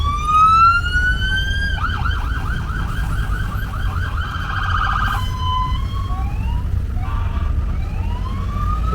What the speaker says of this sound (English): There's an undercover police car there.